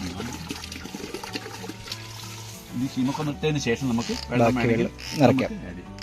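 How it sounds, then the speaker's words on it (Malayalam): Water trickles and spills over, with a person talking over the splashing throughout. "വെള്ളം ഓവർഫിൽ ആയി ഇത് പുറത്തേക്ക് പോയില്ലേ ചെറുതായിട്ട്"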